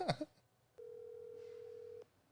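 A single telephone tone sounds on a call being placed, holding steady and moderately loud for over a second before cutting off, after a brief burst of noise at the start.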